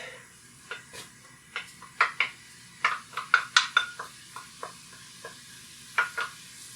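Ground meat and onion being stirred and broken up in a frying pan, with a series of quiet, irregular scraping and clinking utensil strokes over a soft, faint sizzle.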